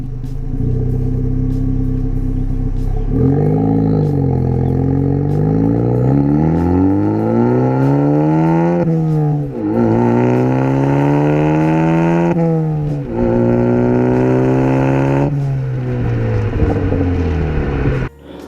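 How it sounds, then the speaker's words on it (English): A 2013–2016 Ford Focus ST with a Borla catback exhaust drives and accelerates repeatedly, its exhaust note rising in pitch through the gears with brief dips at shifts, steady and fairly loud with no talk. "So my initial impressions of driving with the Borla exhaust is it sounds really good, but it's not that loud."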